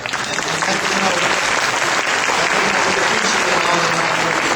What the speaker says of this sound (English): Give the staff here, the cooks, a big round of applause